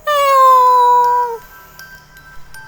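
A cat gives a single long, loud meow that falls slowly in pitch, close by and alone, then trails off into quiet background.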